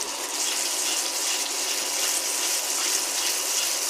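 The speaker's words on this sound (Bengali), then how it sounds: "সামান্য একটু গরম জল দিয়ে একটু কষাচ্ছি।" Hot water poured into frying spices in a home kitchen pan, a steady close hiss and gush that holds evenly for the whole few seconds.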